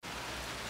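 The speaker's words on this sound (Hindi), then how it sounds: "अभी वापस बारिश होने लगा है." Steady rain pours outside in Paris, a dense, even hiss of drops on surfaces that starts abruptly and continues loud and unbroken, with no voices.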